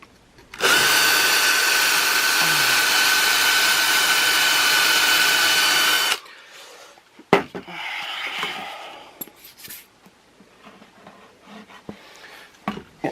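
A power drill drives screws into bamboo for an audio diffuser, a loud steady whine lasting several seconds up close, then stopping, followed by quieter clicks, knocks and handling sounds of the bamboo workpiece.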